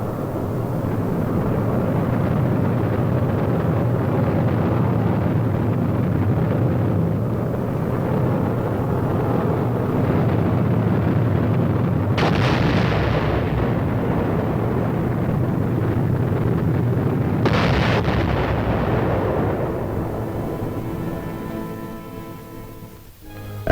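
Archival film sound of a German V-2 rocket launch: a loud, sustained roaring rumble that holds for about twenty seconds, with sharp bursts around twelve and seventeen seconds, before fading away.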